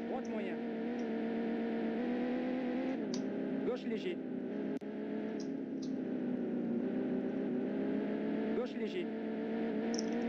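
A steady, droning rally-car engine from the Nintendo 64 game V-Rally 99, humming continuously with slight shifts in pitch while someone talks over it in French.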